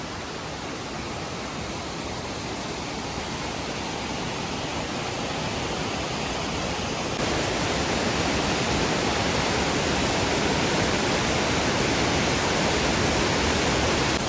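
Meenmutty waterfall and the river at Aithala in Ranni pour in a steady, loud broadband rush, dense and unbroken throughout, growing slightly louder partway through with no voices.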